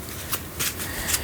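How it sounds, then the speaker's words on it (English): A deck of playing cards is riffle-shuffled up close, three quick soft bursts of flicking paper in a quiet setting. "Give them a shuffle."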